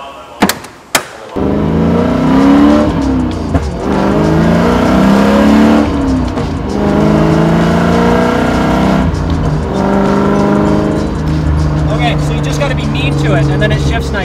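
A Toyota Supra fitted with a short shifter pulls away on a road test, its engine revving loudly up through the gears with rising and falling pitch between shifts, close and continuous, while people talk over it.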